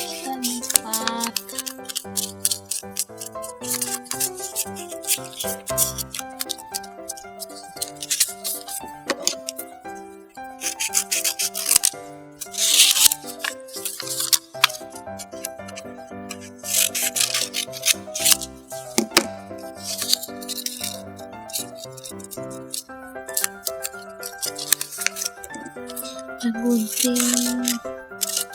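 Scissors snip through paper during a paper-craft activity, with repeated short cuts and rattling handling sounds in an irregular rhythm, set against a tonal musical background.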